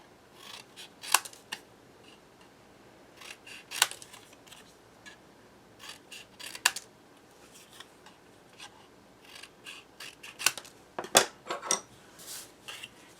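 Scissors cut along paper edges for a summer windmill craft, giving a series of crisp, close snips in irregular bursts with short pauses between them and no talking.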